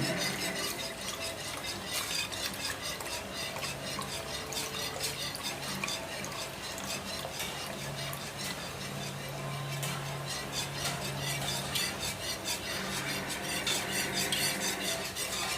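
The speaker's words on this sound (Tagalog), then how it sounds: "haluin lang natin kasi baka mamuo yung ating cornstarch" Evaporated milk is stirred into a cornstarch mixture for mango gelatin cake, a continuous close scraping and swishing of the utensil in the liquid with a steady, even rhythm.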